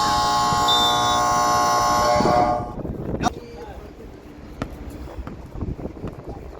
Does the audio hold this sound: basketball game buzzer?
yes